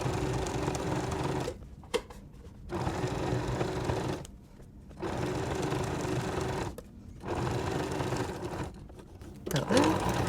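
A sewing machine stitches binding around a patchwork quilt in long steady runs, stopping briefly three times between bursts, close and clear.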